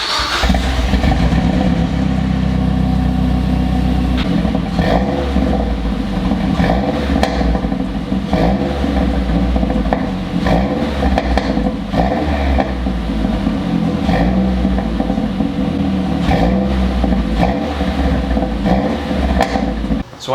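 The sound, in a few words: Mazdaspeed 3 engine running after oil change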